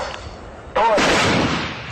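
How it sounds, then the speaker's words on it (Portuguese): Fifteen rifles fired at exactly the same moment by Brazilian Federal Police special-unit shooters on a range merge into a single loud, sharp report, followed by a long rolling echo that slowly fades. "todos os atiradores têm que disparar exatamente ao mesmo tempo, dando a impressão de que é um estampido de um único tiro, e não de 15"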